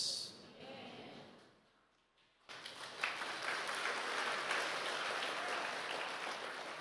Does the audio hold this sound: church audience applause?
yes